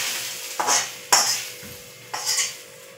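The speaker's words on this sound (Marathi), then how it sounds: "त्याने आपल्याला हा कांदा तळून घ्यायचा आहे." Onion frying in a pan for a Marathwada-style umbar amti, with steady sizzling broken by three scraping strokes of a spoon stirring against the pan, close and without talk.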